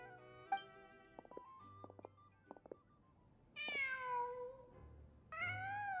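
A cat meows in Genshin Impact, two clear rising-falling meows close by after a stretch of quiet footsteps and soft game sounds.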